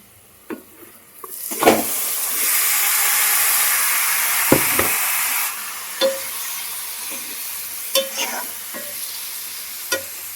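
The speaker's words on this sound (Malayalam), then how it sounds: "എല്ലാം പുരട്ടി വെച്ച ചിക്കനാണേ ഇട്ട് കൊടുക്കാം" Marinated chicken drops into a hot pan with a sudden loud sizzling hiss that holds for a few seconds, then eases into a softer fry broken by scattered clinks and stirring knocks. No one speaks.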